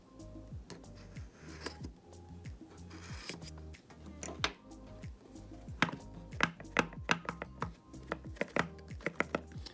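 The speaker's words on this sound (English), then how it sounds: "now we will be unboxing the Samsung Galaxy Buds." Samsung Galaxy Buds+ packaging being opened close up: quick rhythmic tapping, clicking and cardboard handling sounds that grow busier and louder toward the end, with no talking.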